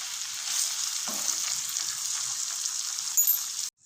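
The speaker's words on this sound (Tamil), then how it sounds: "5 நிமிஷம் ஹை ஃப்ளேமில் வச்சு நல்லா கிளறி விட்டுட்டோம்." Mango pickle sizzles and fries in hot oil over a high flame as it is stirred, a steady bright hiss with scraping stir sounds in a close kitchen, cutting off abruptly near the end.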